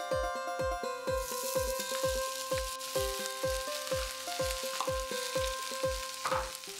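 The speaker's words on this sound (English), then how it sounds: "Now, add 1 cup of grated raw mango." Grated raw mango hits a hot pan with a steady crackling sizzle, punctuated by a regular rhythm of sharp clinks as it is stirred and sautéed with grated coconut for mango rice.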